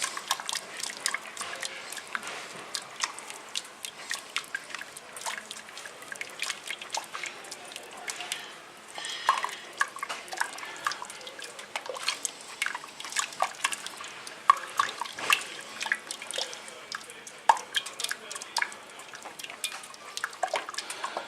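Cream of chicken soup with thyme being stirred and mixed, a steady run of soft wet liquid sloshing and small clinks throughout, with brief quieter moments.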